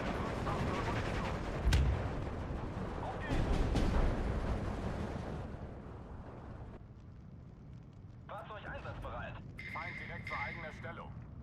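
Rumbling 50mm mortar fire in the Steel Division 2 wartime strategy game: a couple of heavy, muffled blasts over a dense battle din, followed by someone speaking as the noise fades.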